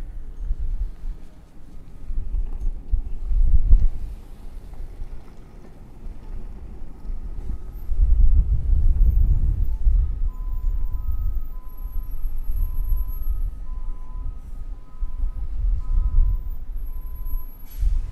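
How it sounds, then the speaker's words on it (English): Wind buffets the microphone in low, uneven gusts that swell and fade at a rocket garden, with a faint steady mechanical hum in the background. "It is a windy day out here."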